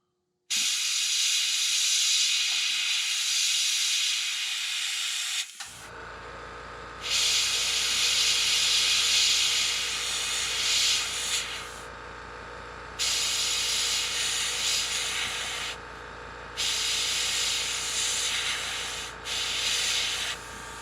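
An airbrush hisses steadily as it sprays paint onto a custom crankbait-style craw lure at about 18 to 19 psi, in long continuous bursts separated by short pauses, close and loud with a low compressor hum underneath.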